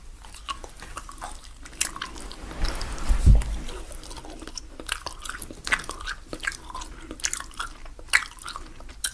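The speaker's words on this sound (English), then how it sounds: "have this extra sugar-free peppermint Wrigley's chewing gum." Sugar-free peppermint Wrigley's chewing gum being chewed close to the microphone, with wet, sticky smacks and clicks repeating irregularly throughout, soft and intimate, with no voice.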